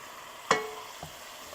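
Seasoned chicken browning in a pot, with one sharp sizzling scrape of a stir followed by a fainter second touch, quiet and close.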